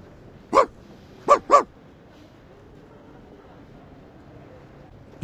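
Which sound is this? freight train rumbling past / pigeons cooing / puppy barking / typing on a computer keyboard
puppy barking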